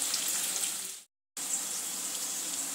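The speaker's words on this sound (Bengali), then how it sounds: "পেঁয়াজটা একটু নরম হয়ে আসা পর্যন্ত ভেজে নেব।" Chopped onion frying in a pan gives a steady, even sizzling hiss that stops briefly and then resumes at the same level.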